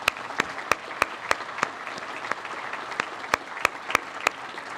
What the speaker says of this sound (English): Let's give all of you guys a round of applause.